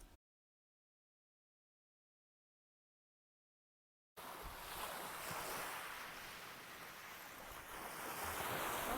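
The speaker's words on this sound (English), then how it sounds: "Something about the ocean and just kind of hearing the waves and watching the waves" Ocean waves wash and rumble steadily off Gili Air, a continuous broadband surf sound mixed with some wind, starting after a few seconds of silence and staying fairly loud to the end.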